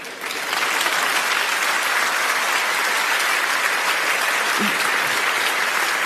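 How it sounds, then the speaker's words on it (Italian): Steady, dense audience applause fills the room at an even loudness for several seconds, rising quickly at the start and holding as a continuous roar of clapping hands with a faint voice briefly underneath. "ti fanno anche l'applauso"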